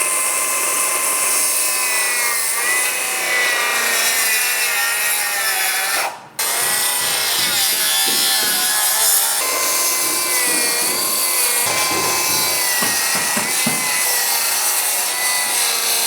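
A battery-powered saw cuts steadily through wooden stair stringers during new-construction framing, a loud continuous rasping drone that runs alone for about sixteen seconds, briefly cutting out once partway through.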